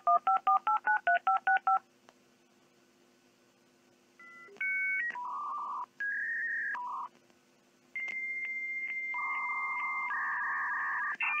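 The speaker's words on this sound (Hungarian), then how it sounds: "ilyen volt régen, amikor az internethez csatlakoztunk telefonvonalon" Dial-up modem connecting to the internet over a telephone line: a quick run of DTMF dialing tones, then a pause and a series of steady handshake beeps and tones, loud and clear with no voices.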